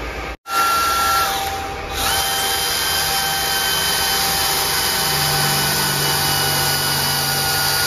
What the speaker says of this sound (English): So we are going to drill a very small hole just here.